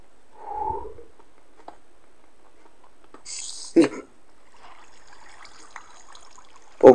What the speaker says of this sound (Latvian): Ūdens, tā no kurienes te?